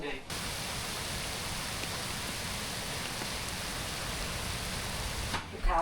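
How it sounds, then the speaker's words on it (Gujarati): Steady rain falls throughout as an even, dense hiss of drops at moderate loudness, with no voices over it. "સારું થયું અત્યારે વરસાદ આજે આવ્યો"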